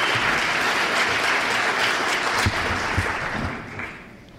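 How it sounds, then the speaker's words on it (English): Dense, steady applause fills a hall at the WACA Hall of Fame 2016 ceremony honouring the advisors of the year, holding strong before tapering off near the end. "Can we have one more round of applause for both of our advisors of the year this year?"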